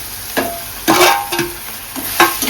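Roasted semolina (rava) stirred and sautéed with cooked onions in a pan, a soft steady sizzle broken by several scraping stir strokes, close and alone.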